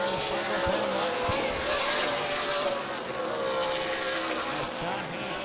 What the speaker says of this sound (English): it appears the 8 machine of Carlson is catching him